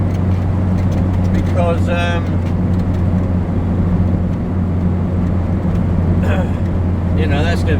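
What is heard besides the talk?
Talbot Express gearbox whining while driving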